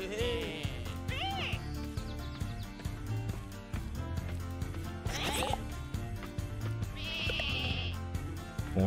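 Sheep bleat in the sheep-herding video game Lumberhill, with several wavering calls rising among busy game music and sound effects across the scene.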